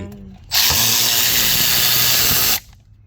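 A power tool rattles hard for about two seconds while loosening a nut on a Lexus IS300 engine during engine removal, starting abruptly, staying loud and steady, then stopping.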